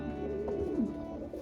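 Racing pigeons kept together in a small loft, with one low, rolling coo that rises and dips over a steady murmur of other birds, close and clear.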